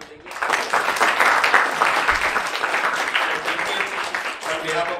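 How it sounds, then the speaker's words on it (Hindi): Loud, sustained applause from an audience at a chemistry session of a Science Olympiad orientation program, dense clapping filling the whole stretch without a break. "पूरे टीम के लिए हम लोग एक बार जोरदार तालियां कर देंगे।"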